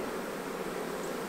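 Honey bees hum at an opened hive during a spring swarm-prevention inspection, a continuous close, even buzzing drone with no voices.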